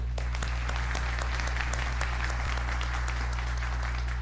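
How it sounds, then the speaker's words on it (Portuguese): Audience applause at a business presentation, dense steady clapping from a crowd sustained for several seconds over a low constant hum. "queria uma salva de palmas para a Iene"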